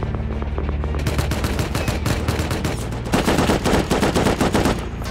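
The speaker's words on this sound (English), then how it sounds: "Getting shot from behind." Dense gunfire in the survival game Rust, rapid automatic bursts and overlapping shots coming from behind, loud and continuous throughout with heavier volleys near the end.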